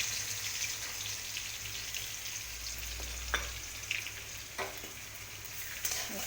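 Black cumin, a dried red chilli and crushed garlic crackle in hot oil in a wok, a quiet steady sizzle broken by a few sharp pops and stirring clicks.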